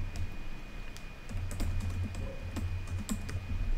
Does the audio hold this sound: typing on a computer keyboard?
yes